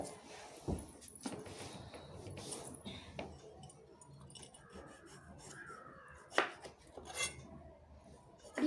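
Vegetables being chopped on a board in a home kitchen, a few sharp knife strikes scattered among clinks of dishes and rubbing sounds, fairly faint and close by.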